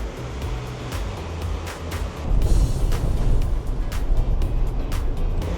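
A fast, swollen river rushes below a waterfall near a riverside camp spot up East Harrison near Chilliwack, a loud, continuous broadband roar of churning water heard up close.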